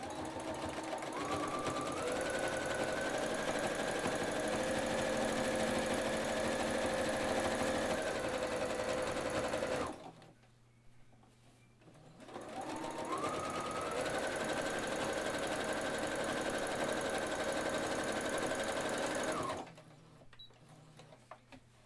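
A sewing machine stitches a quarter-inch seam on a fabric shoe bag. It makes two long, steady whirring runs of about ten seconds each, separated by a short pause, with no talking.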